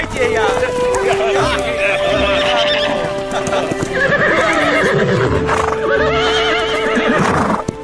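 Several horses neigh and whinny loudly, their calls overlapping amid crowd chatter, hoof clatter and lively background noise.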